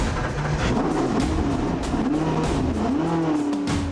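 Shannons Mars Racing V8 Supercar, a loud, raspy V8 engine revving in rising and falling surges with a rough idle between blips, close by and without talking.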